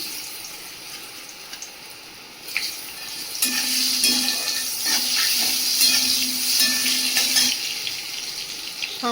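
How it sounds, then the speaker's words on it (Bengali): Panch phoron five-spice and bay leaf frying in hot oil as cut raw mango goes in. A quieter start gives way to a loud, steady, close sizzling hiss that holds to the end, with no talking. "পাঁচ ফোড়ন ভালো করে ভেজে নিয়ে এর মধ্যে দিয়ে দেবো কাঁচা আম কেটে রেখেছিলাম"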